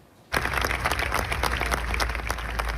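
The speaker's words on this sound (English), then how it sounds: "A large crowd sang and applauded outside a church in the Buenos Aires neighborhood where Francis grew up." A large crowd applauds outside a church in a Buenos Aires neighborhood, steady dense clapping that starts abruptly after a quiet moment and carries on loud and continuous.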